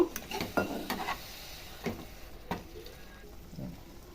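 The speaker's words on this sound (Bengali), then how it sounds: "এবার অল্প পরিমাণে জল দিয়ে মশলাটা ভালোভাবে কষে নিব।" Masala for egg curry being stirred in a pan, with soft scattered scrapes and taps of a spatula against the metal over a faint sizzle, fairly quiet and close.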